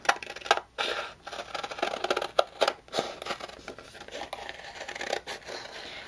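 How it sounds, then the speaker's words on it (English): Scissors snip and rasp through paper in quick, uneven bursts, close by, with soft rustling between cuts and no voices. "take some scissors and just cut out this"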